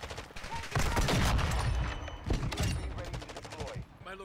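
Gunfire in the video game Modern Warfare 2, rapid automatic bursts that are close and loud with brief pauses between strings of shots.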